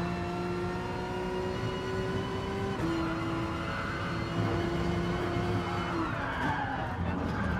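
A race car in GT Sport screeches through a long tire skid over a steady engine whine, loud and continuous with shifting pitch.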